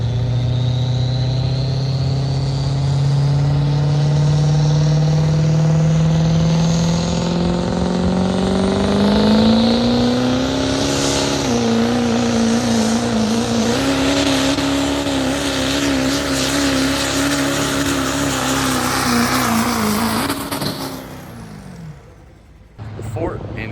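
A 6-liter Duramax diesel truck's engine roars loud and sustained at a street sled pull, its pitch climbing as it spools up and holding steady before dropping off near the end, with a commentator talking over it.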